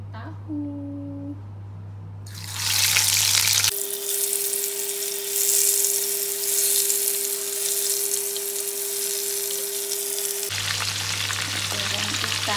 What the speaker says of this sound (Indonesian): Sekarang mau goreng tahu.